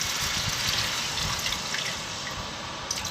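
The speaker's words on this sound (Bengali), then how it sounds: "জল দিয়ে দিলাম।" Cold water poured into a pan of frying masala for egg curry, a steady broadband rush and hiss with sizzling that holds for about three seconds, close and fairly loud, no talk.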